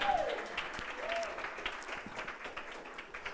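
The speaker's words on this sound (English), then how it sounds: "Everybody give him a nice warm round of applause." An audience applauds a volunteer called up to help at a Friday night fifth-anniversary event, with warm, fairly dense clapping that gradually thins while faint voices sit underneath.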